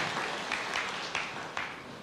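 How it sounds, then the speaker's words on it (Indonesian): A church congregation at a Christian sermon gives lively applause. The clapping is steady and moderately loud, with a few sharper bursts standing out from the continuous wash. "Berikan tepuk tangan yang meriah."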